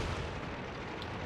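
Tank guns fire in World of Tanks, heavy booming blasts blurring into a dense rumbling roar that stays loud and continuous with no voices.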